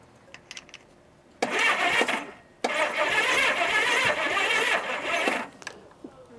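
An old Honda Goldwing motorcycle's starter cranks the engine over in two close bursts, a short one then a longer one of about three seconds, each a loud whirring churn that doesn't catch, with quieter clicks before.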